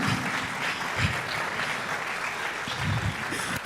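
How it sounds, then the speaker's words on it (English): Steady applause from a seated audience at the opening of an African human rights moot court competition, sustained evenly for the whole stretch with a few louder swells. "please give the Vice Chancellor and her management a round of applause"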